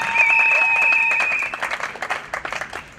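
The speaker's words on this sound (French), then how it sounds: "Applaudissez quand même" An audience at a political party meeting presenting election candidates claps loudly at first with a whistle-like tone, then the clapping thins into scattered claps that fade out.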